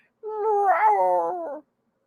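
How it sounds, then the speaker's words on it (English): A single long, deep, throaty cat meow rising and falling in pitch, close and clear, lasting over a second against otherwise silent surroundings. "He's the one with that deep throaty meow."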